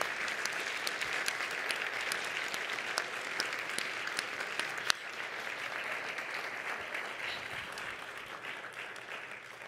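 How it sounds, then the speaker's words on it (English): Audience at a State of the City address applauds in a steady, sustained wash of clapping that holds at an even level throughout, with no talking over it. "Let's give them a round of applause."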